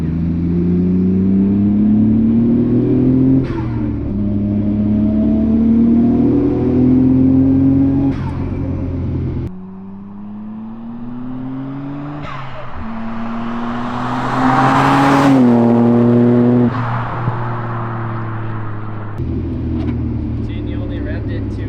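A Nissan R32 GT-R engine revs up repeatedly to about 5,500 RPM, pitch climbing and dropping in long sweeps, loud and close, with people talking over it.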